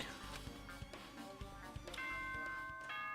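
An announcement chime rings out in the video game Danganronpa 2, a bright sustained bell tone that enters after a series of faint ticking clicks and soft background music.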